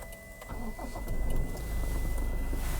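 A 2018–2019 facelift Toyota Land Cruiser Prado is switched on: the engine turns over and settles into a steady idle while the electric steering column motor hums as it moves back into position. No one speaks.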